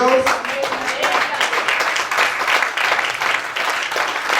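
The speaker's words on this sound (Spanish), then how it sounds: "Dale un aplauso a la gloria de Dios." A church congregation at a Spanish-language worship service in Anaheim, California, breaks into sustained, dense applause, steady and fairly loud throughout, with voices and a few shouts mixed in.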